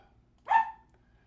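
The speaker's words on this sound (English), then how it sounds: "Now I got the other dog barking at me." A single dog bark, short and fairly close, rings out once against a quiet indoor background with no talking.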